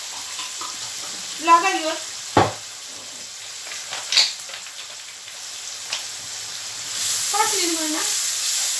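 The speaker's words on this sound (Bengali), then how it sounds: "কারি পাউডার দিয়ে ভেজে" Chicken frying with curry powder, chili powder and cumin in a pan, a steady soft sizzle with occasional stirring knocks, while people talk briefly over it.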